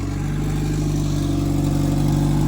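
A fully built Honda Civic engine revs close by, a loud, steady mechanical drone with a throbbing pulse and a prominent exhaust note, held without pause.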